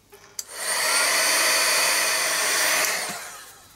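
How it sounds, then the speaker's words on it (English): A heat tool blows hot air over a mixed media art tag, a close, loud, steady whoosh that switches on with a click, holds for about two and a half seconds, then winds down. "Let's give that a bit of a heat up."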